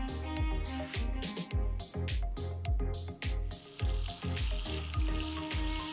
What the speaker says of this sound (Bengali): আনুমানিক 4 টেবিল চামচের মতো বাটার ভালো করে গরম করে নিয়ে সেই পরিষ্কার করে রাখা চিংড়িগুলো দিয়ে একটু সতে করে নিচ্ছি।